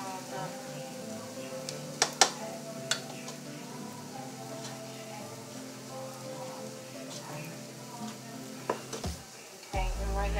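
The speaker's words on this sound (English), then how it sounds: "right now I'm just kind of like stirring it" Seasoned food with garlic powder sizzles steadily in a pan while being stirred, with a few sharp utensil clicks and scrapes near the start and end.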